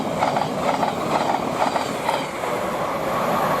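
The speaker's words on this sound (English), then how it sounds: "First train to pass by." A Class 700 electric multiple unit passing at Potters Bar on the East Coast Main Line, a steady rushing roar of wheels and rolling carriages with faint rhythmic clatter, close and continuous.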